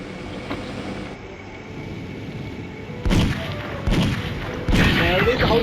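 Bombs explode in the Mini Militia video game as three loud, sharp booms, each trailing into a rumble, over a quieter background of game noise.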